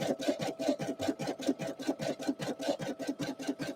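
An embroidery machine stitches out a design, a steady rapid mechanical rhythm of repeating needle strokes at close range with no talk.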